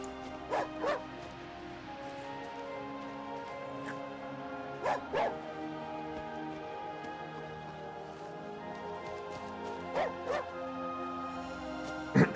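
A dog in the heavily modded Skyrim LoreRim 4.0 game barks in short pairs of woofs, repeating about every five seconds over a soft steady in-game ambience.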